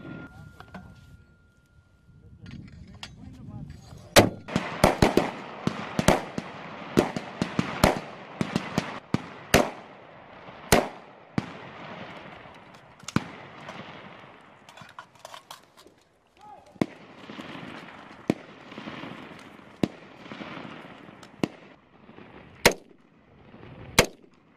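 US Marines firing mortars in the field, a series of sharp sudden blasts and cracks of varying strength spread across a noisy outdoor scene, with people talking in between.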